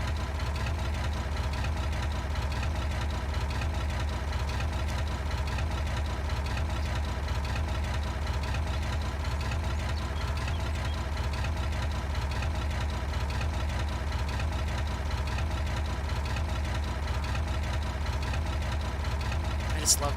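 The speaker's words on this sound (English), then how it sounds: "I just love the sound of this Oliver tractor." A 1955 Oliver 55 series tractor idles in Farming Simulator 22, a steady, even engine drone that runs continuously at moderate level throughout, with no talking over it.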